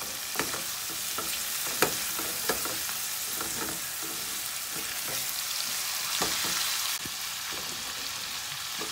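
Garlic shrimp with chopped parsley sizzling in a hot pan, a steady frying hiss broken by scattered sharp pops and spatters, close up and with no voices.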